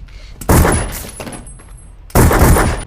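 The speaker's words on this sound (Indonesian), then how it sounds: "Santiago harus terlibat baku tembak dengan Lorea" Gunfire in a movie shootout: two loud, sharp blasts about a second and a half apart, each with a ringing, echoing tail and no speech over them.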